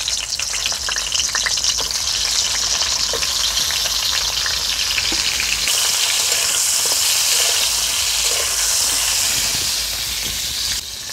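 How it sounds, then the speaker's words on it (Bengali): Pointed gourd (potol) pieces frying in hot oil in a kadai, making a loud continuous sizzle and hiss with scattered crackling pops that carry on steadily; no one speaks. "তেলটা গরম হয়ে গেছে, পটলগুলো দিয়ে দেব।"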